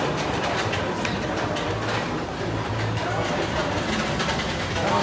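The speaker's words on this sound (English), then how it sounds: "I'm gonna get on the train, Papa." Small zoo ride train, the Serengeti Express, running at an amusement park, giving a steady rumbling, rattling drone throughout with faint clickety-clack, under children's and adults' voices nearby.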